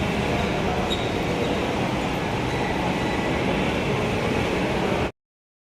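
A Delhi Metro train rumbles steadily with a constant, loud roar of wheels and air, which cuts off abruptly near the end.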